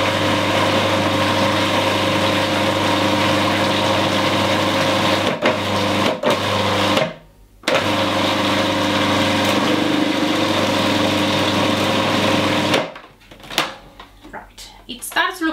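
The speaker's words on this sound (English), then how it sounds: "So now we're gonna start blending" A blender whirs steadily close by, mixing a vegan pumpkin spice truffle mixture with peanut butter, with a couple of brief pauses and clatters between runs.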